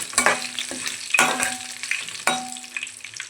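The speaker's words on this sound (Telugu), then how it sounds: "వెల్లుల్లి వేస్తున్నాను కరివేపాకు వేస్తున్నాను ఒకసారి తిప్పుదాము" Garlic and curry leaves frying in hot oil in a pan while being stirred, with crackling sizzle and several distinct scraping stirs of a spoon against the pan, close and moderately loud, no talking.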